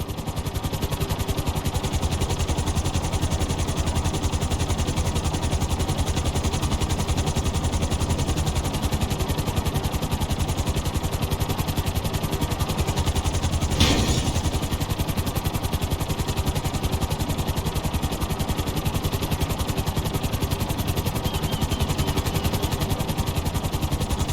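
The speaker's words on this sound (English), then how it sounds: "Bring the helicopter down gently onto the helipad." Helicopter in the GTA V video game coming down onto a helipad, a steady, loud, dense rotor and engine roar that continues unbroken throughout.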